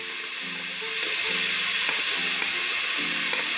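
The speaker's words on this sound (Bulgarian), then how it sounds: "Оставям ги да се запържат до омекване, да се задушат" Vegetables and garlic frying in olive oil in a pan, a steady close sizzle with a faint tonal hum underneath and a few light clicks, no talk.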